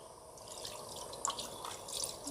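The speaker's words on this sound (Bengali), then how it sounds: "আমি মশলার বাটিটা ধুয়ে জলটা দিয়ে দেবো" Water used to rinse a spice bowl is poured over hilsa fish in mustard paste for ilish bhapa, a faint, close trickle with soft drips.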